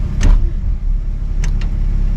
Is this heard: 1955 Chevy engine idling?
yes